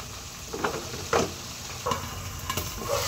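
Meat fries in hot oil for nakbet with a steady sizzle, marked by several sharp crackles of spattering oil and some stirring, close and fairly loud.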